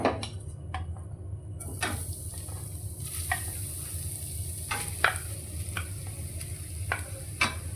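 Grated coconut being sautéed in ghee in a pan for coconut barfi: a steady soft sizzle under repeated close clinks and scrapes of a spoon stirring against the metal pan, with no voices.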